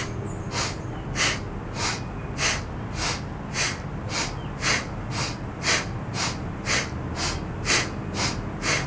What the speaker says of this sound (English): We're gonna inhale forward from the center of the chest and exhale back.